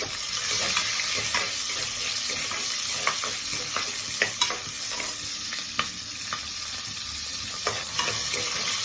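Ginger and green chillies frying in hot oil for a potato masala to go with poori, a steady close sizzle with occasional sharp crackles and stirring clinks throughout.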